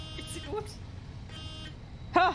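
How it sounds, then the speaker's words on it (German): A bus horn in the Bus Simulator driving game gives one short, loud honk near the end, following a low engine rumble and brief speech. "Wusste ich doch, dass er weiterfährt, wenn ich hupe"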